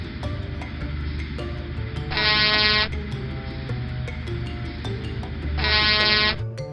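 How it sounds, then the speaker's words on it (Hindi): Two long, loud horn blasts from large container trucks sound over a constant roar of traffic and engine noise, each lasting under a second. "एक के बाद एक 10 विशालकाय कंटेनर ट्रक हॉर्न बजाते हुए आते हैं।"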